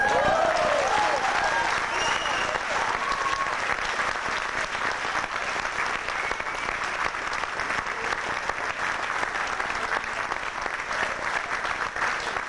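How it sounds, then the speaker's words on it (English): Sustained applause from a crowd, steady and loud throughout, with a brief voice at the start. "So we get an awesome applause,"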